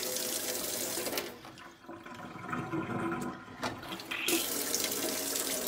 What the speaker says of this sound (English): I turn it on full blast, so I push a lot of water through there.